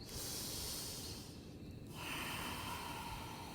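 A deep, full breath during yoga practice: a long, airy inhale, a short pause, then a slow, breathy exhale, close and quiet with no talking.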